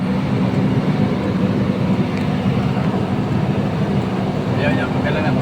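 A motorcycle engine drones steadily and loudly while climbing a very steep road to Garchitorena in Camarines Sur, with a continuous low rumble and faint voices mixed in.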